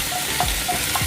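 Onion sizzles steadily in hot olive oil in a pan, a close continuous crackle with a few soft stirring scrapes and no voices.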